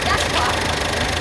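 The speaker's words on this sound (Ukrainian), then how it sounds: "Турбина." Steady running hum of a Peugeot 2008 1.5 BlueHDi four-cylinder turbocharged diesel, close and constant, with a dense engine drone and turbo whine throughout the brief moment.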